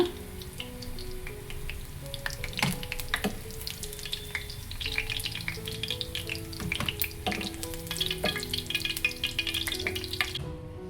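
Battered bajji snacks fry crispy in hot oil in a pan at home, a steady close sizzle with bursts of crackling, pops and occasional stirring clinks throughout.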